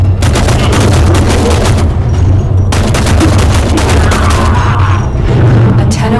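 Rapid, loud secondary-weapon gunfire at targets in the Warframe video game, a dense continuous burst of shots with booming impacts, one brief pause, then more firing, close and overpowering.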